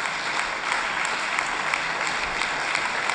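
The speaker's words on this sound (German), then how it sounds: "Da kann man nochmal einen Applaus von oben zeigen." A live audience in the upper gallery of the Saxony-Anhalt state parliament applauds at a volunteer appreciation event, a dense, steady wash of clapping that holds at an even level from start to finish with no speech over it.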